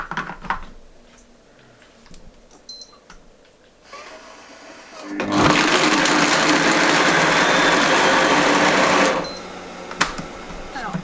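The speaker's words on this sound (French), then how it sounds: "Moi je vais mixer vitesse 7 parce que mon robot est moins puissant que le Thermomix." A food processor blending praline paste at speed 7, a loud steady whirring roar for about four seconds after quieter handling and a voice at the start.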